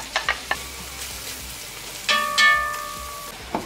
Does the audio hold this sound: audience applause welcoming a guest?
no